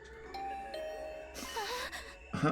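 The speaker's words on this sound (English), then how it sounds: "My heart did a somersault when my doorbell suddenly rang." A two-tone ding-dong doorbell chime rings in a video game, clear and fairly close over a soft musical background, with a brighter burst near the end.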